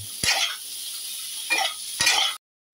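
A spoon scrapes and stirs through peas and boiled mung dal in a pan, a few distinct scraping strokes over a soft steady sizzle.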